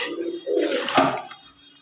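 Pigeons coo softly in a short burst, a low throaty warble rising in the middle and fading out near the end.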